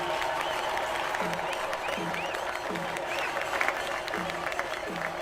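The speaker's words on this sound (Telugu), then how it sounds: "బాగా చప్పట్లు కొట్టండి." An audience applauds steadily through a timed game competition, with a continuous wash of clapping under a loudspeaker voice talking over it.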